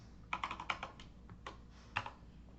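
Typing on a computer keyboard, a quick cluster of key presses followed by a few separate taps, close and fairly soft, with no talking.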